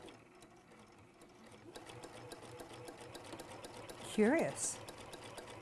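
A sewing machine stitches a seam in a steady rapid patter, fairly quiet and close, while a person speaks briefly over it near the end.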